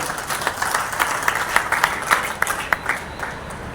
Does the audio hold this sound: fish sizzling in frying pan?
no